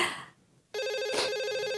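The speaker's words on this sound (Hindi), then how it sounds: "अरे फोन।" A telephone ringing in a Hindi TV comedy household scene, a steady electronic warbling ring that starts abruptly after a brief quiet moment and continues loud and close to the end, with no talk over it.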